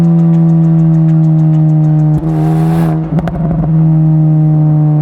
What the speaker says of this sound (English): And speaking of this exhaust, it does backfire.